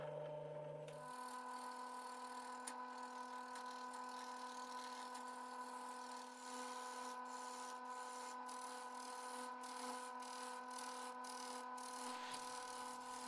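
A Forstner bit in a drill hollowing out the centre of a wood piece, a steady whining motor hum with faint grinding of the cut and occasional ticks, at low volume with no talking.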